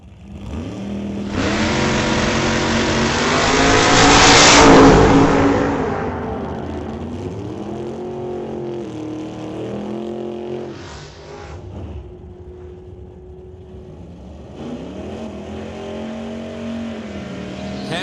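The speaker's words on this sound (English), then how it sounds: "And Derek Shirk running the 598 cubic inch big block Chevy Camaro against Jason Gibson in the 1991 Mustang Fox Body." A 598 cubic inch big block Chevy Camaro races a 1991 Mustang Fox Body down a drag strip, engines roaring loud and close in a swelling launch, then fading into a steady distant drone with a second surge near the end.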